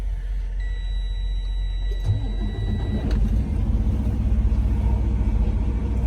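A truck's engine idles in neutral while air pressure builds for the brakes, a close, steady low rumble that grows slightly fuller partway through, with a thin whine near the start.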